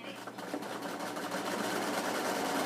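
A sewing machine runs steadily, stitching the seam of a fabric kick plate with a fast, even whirring hum that stays close and constant and grows slightly louder, with no speech.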